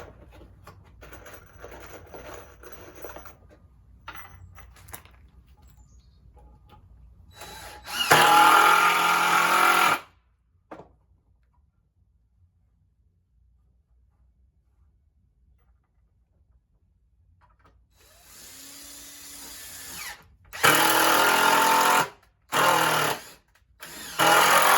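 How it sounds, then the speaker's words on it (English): A power drill whirs in short bursts as it drives screws into a wooden gate. A two-second run is followed by a long quiet pause, then several quick bursts close together, with faint rustling between them. "I'm going to put 4 screws in each one."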